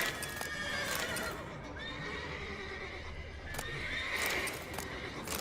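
Panicking horses in the video game The Witcher 3 whinny and neigh repeatedly, shrill calls rising over clip-clopping hooves and a busy stable-like background.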